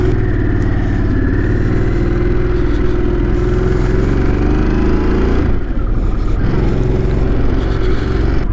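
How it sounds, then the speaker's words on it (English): A 2021 Harley-Davidson Sportster S on the road, its engine giving a loud, steady, throbbing rumble that holds on and on with a brief dip midway. "here we go on the maiden voyage on Sportster S"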